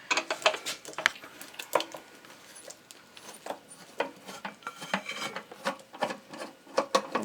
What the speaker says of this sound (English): You're going to want to unscrew it all the way, and then you're going to want to open your discharger.